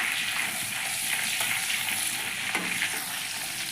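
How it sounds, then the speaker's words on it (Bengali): Bay leaf and garam masala frying in hot oil, likely for doi chingri, give a steady, close broadband sizzle with a few faint stirring scrapes, without voices. "তেজপাতা গরম মশলা দিয়ে একটা সুগন্ধ যতক্ষণ না বেরোবে একটু নেড়ে নেব"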